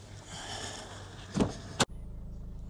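A car door opens and slams shut with a sharp thud as someone gets into the vehicle. A low steady idle follows, close and without speech.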